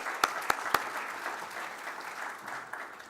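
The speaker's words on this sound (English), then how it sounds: "Let's give her another round of applause" Applause from a conference audience at an agro-dealers meeting, opening with a few sharp claps and settling into a steady, moderate wash of clapping that gradually thins.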